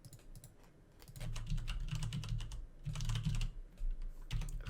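Fast bursts of typing on a computer keyboard, close and crisp, with rapid key clicks grouped in several short runs separated by brief pauses.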